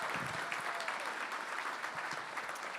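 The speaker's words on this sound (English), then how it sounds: "That deserves a round of applause." A dense round of applause from the audience at the 13th Annual Long Island Imagine Awards ceremony, steady and fairly soft, filling the whole moment with no voices over it.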